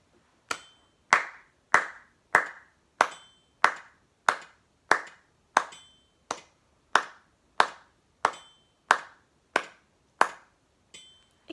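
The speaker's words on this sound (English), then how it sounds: "Can you follow along by clapping with me?" Hands clap along in a pre-k music lesson, about eighteen sharp, evenly spaced claps close by in a steady beat, with a quieter final clap.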